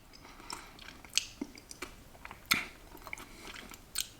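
Smoked crickets being eaten, close crunchy chewing with a few sharp crackling bites spread across a quiet background, no talking.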